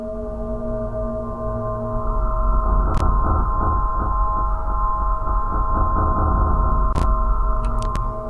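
Ambient soundscape from a Bitwig 4.1 sampler patch: a steady droning pad with sustained tonal layers and a low rumble, swelling slightly midway, with a few brief bright ticks; no voices.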